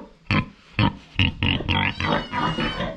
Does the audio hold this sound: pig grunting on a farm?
yes